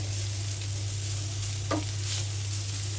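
Boiled raw jackfruit frying in oil with a little salt, a steady close sizzle running throughout with a brief stirring scrape partway through, no talk.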